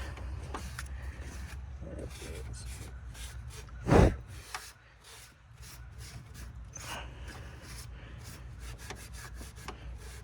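Someone scrapes and rubs clean the valve cover gasket surface on a Chrysler Town and Country 3.8 engine, a soft continuous scraping with one sharper knock partway through.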